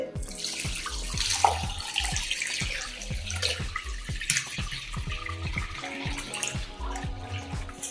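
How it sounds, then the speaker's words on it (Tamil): Strained homemade ginger wine poured steadily from a vessel into a bottle, a continuous close splashing, gurgling stream of liquid with no talking. "மிக்ஸ் பண்ணிட்டு நல்லா வடக்கட்டிக்கோ ஃபில் பண்ணிக்கோங்க"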